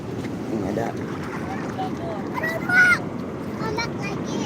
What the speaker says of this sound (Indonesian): Ombak lagi.